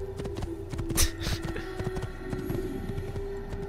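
Rapid hoofbeats of a galloping horse in Assassin's Creed thud in an irregular rhythm, with a sharp hit midway and a steady hum underneath.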